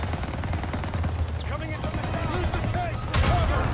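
Bursts of gunfire and battle noise in a World War 2 shooter game, fairly loud and continuous, with voices talking over the fighting.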